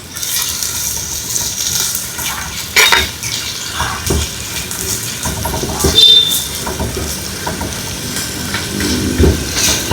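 Chopped onions and shallots sauté in a pan for a chicken liver coconut milk roast, a soft sizzle under repeated metal clinks and scrapes of a spoon against the pan, with no talking.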